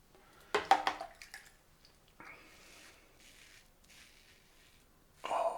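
Cold water from a tap runs and drips during a head shave with a Henson razor, brief splashes and drips sounding close and fairly quiet, with a short burst of running water near the end.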